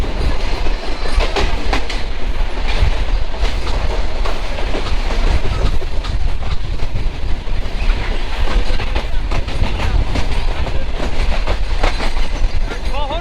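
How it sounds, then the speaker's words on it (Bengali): A loud, steady roar of the Chilahati Express running on the tracks in Bangladesh, with continuous rumbling and rhythmic wheel clatter throughout, heard from close by. "তিলারি এক্সপ্রেস ট্রেন"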